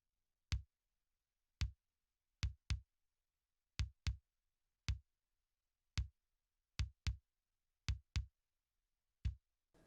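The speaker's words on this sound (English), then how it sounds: "So now I'm gonna play the kick drum." A kick drum sample from a percussion module hit over and over in an uneven rhythm, each one a short, deep, punchy thump with a quick decay, close and dry with silence between.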